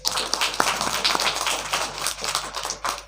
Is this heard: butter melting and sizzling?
no